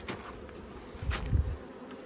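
Honeybees buzz steadily around a stacked hive of frames, a dense near hum that swells briefly louder midway, with no voices.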